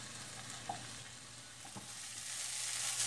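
Onions frying golden in a pan as they are stirred, a steady sizzle with a few soft scraping clicks of the utensil, building slightly louder toward the end, with no voices.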